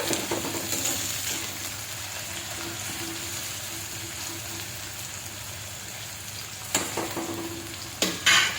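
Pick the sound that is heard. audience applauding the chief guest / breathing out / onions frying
onions frying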